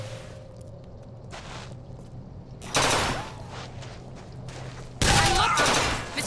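Enemy gunfire in BioShock Infinite: Burial at Sea, with sharp bursts of automatic shots coming in two loud clusters against a quieter humming background.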